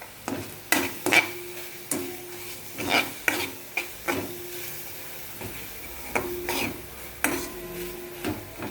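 Spoonful of chili powder being stirred into masala bhindi (okra) in a sizzling pan, with repeated scraping strokes and soft frying hiss, metal utensil taps marking a steady rhythm, close and moderately loud, no talk.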